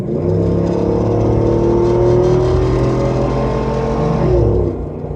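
A Range Rover P38 with a MagnaFlow 16899 exhaust accelerates hard, its engine note climbing loud and close through a sustained pull, then easing as the revs drop near the end.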